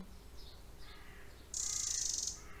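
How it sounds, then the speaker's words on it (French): Faint birdsong drifts in from a distance in an outdoor setting, followed by a brief burst of crow cawing far off. "Peut-être vous entendez le chant d'un oiseau, enfin d'oiseaux, il y a 2 chants d'oiseaux. Il y a des corbeaux au loin"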